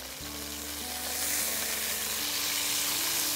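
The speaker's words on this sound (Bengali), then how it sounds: "এই যে তেলটা ছিটে যাচ্ছে" Hot oil sizzling and spattering in a pan while boal fish cooks in a Barishal-style curry, a loud, continuous close hiss with crackling pops and a faint low hum underneath, no talk.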